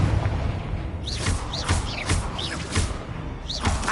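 Confringo fire spells cast in Hogwarts Legacy burst in a quick series of whooshing blasts with low thuds, spaced about half a second apart over a steady rumbling game backdrop.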